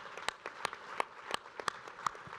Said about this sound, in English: I think that's worthy of a round of applause